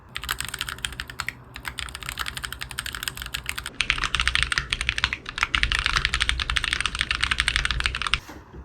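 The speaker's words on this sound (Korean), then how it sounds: "이제 제가 가지고 있는 기계식 키보드 소리를 들려드릴게요" Rapid clacky typing on a Keychron Q1 Knob mechanical keyboard, close and crisp, with bursts of keystrokes that pause briefly and then speed up again.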